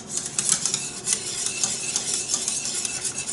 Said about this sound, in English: Cornstarch went into the pot here, and you just stir, stir, stir until you can kind of tell that it's thickening up